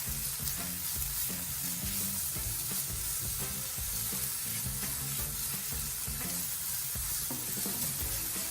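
Bacon sizzling and frying steadily in a pan, a dense, continuous crackle with occasional pops, close and fairly loud with no voices over it.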